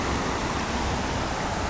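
Floodwater after torrential rain in Virpur rushes through roadside drains, a steady, loud broadband roar of churning water with no pauses and no voices.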